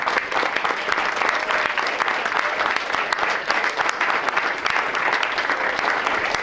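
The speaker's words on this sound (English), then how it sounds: "let's give them all a round of applause" Loud, sustained applause from a large audience at a school board meeting, steady clapping that continues without a break for several seconds.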